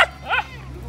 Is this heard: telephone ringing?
no